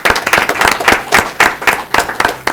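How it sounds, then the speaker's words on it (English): A small audience claps at a city council meeting, with loud, close, distinct individual hand claps in an uneven rhythm over a few seconds. "Let's give them a big round of applause."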